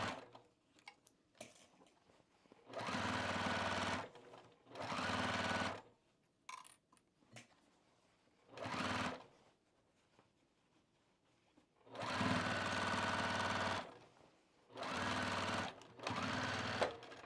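A home sewing machine stitches overalls in short back-and-forth bursts, its fast steady motor chatter starting and stopping five or six times, close and moderately loud, with quiet pauses and small handling clicks between runs.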